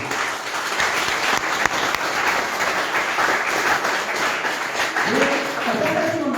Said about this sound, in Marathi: एका जोरदार स्वतःसाठी टाळ्या वाजवा मित्रांनो.